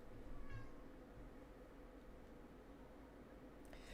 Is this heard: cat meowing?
yes